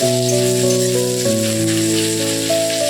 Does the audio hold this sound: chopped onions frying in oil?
yes